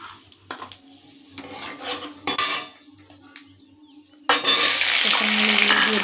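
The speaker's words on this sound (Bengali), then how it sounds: "কড়াইতে একটু জিরে ফোড়ন দিয়ে দেবো।" Cumin seeds tempering in a wok, with a few clinks and scrapes of stirring before a sudden loud sizzle bursts up as the seeds hit the hot oil and keep crackling.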